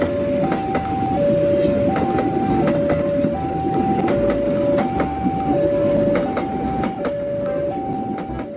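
A locomotive in the video game Jurassic World Evolution 2 runs with a steady loud rumble, a two-tone horn or bell sounding repeatedly in an alternating pattern above it, and no talking.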